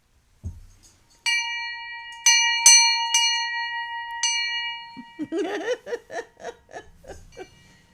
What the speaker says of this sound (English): I think we need a bell.